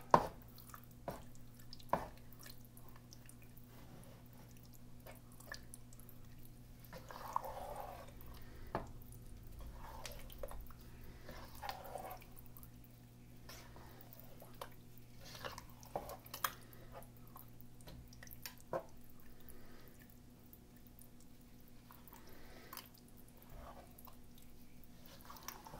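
Spoon working through a thick pot of chili spaghetti, with soft wet squishes and occasional light scrapes against the pot, close and quiet over a steady low hum.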